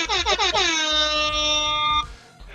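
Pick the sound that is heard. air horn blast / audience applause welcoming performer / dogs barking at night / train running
air horn blast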